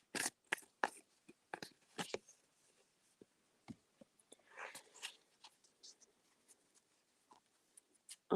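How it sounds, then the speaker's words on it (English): A deck of oracle cards is shuffled by hand. Soft, irregular flicks and taps come in quick clusters, very quiet and close, with no voices. "I'm shuffling now for our sweet Pitbull Mama"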